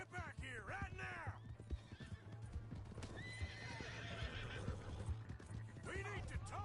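A horse in Red Dead Redemption 2 whinnies loudly at the start and again at the end, with quick clip-clopping hooves and game sounds running throughout and voices heard in between.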